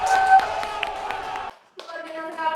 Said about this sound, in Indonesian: Kita beri tepuk tangan untuk Dani Sensei